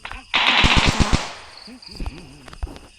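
Automatic rifle fire in the video game Dude Theft Wars: a loud, rapid burst of shots ripping out for under a second, followed by a few scattered single shots and softer game effects.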